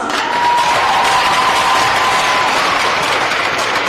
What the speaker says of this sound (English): let's give a nice round of applause for senior moms.